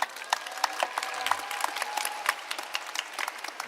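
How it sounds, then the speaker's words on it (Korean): An audience claps steadily for a film director at the outdoor stage of the 29th Busan International Film Festival, under a roof on a rainy day, with a brisk, even patter of many hands. "네, 큰 박수 부탁드립니다."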